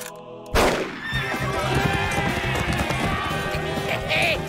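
In the animated series Les Dalton, after a brief quiet moment, a loud burst of motion and galloping noise begins, with a horse's whinny rising over the busy, energetic clatter.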